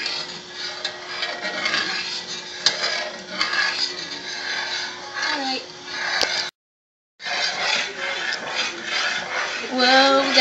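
Spoon scraping and clinking around a pot of pecan candy cooking down on the stove, steady stirring strokes close by with a brief gap, while someone talks over it.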